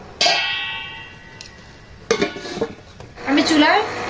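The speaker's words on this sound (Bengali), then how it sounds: "ফ্রাই প্যান বসিয়ে দিয়েছি এখানে চিনির ক্যারামেল বানানোর জন্য" A metal frying pan is set onto a kitchen stove to make sugar caramel, giving a sharp clank followed by lighter clinks and a rattle of cookware, close and fairly loud.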